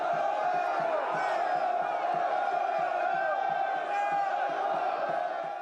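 An arena crowd in the film Gladiator roars for blood, a dense, sustained mass of shouting voices with a steady chant-like drone and no pauses.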